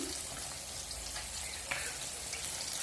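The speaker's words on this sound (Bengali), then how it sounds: "দেখো মাছ ভাজছি" Fish frying in oil in a home kitchen pan, a steady close hiss and sizzle running evenly through the whole stretch with no talk over it.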